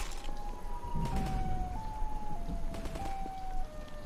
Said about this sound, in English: It's just the video was this creepy broken siren